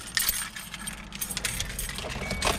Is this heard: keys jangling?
yes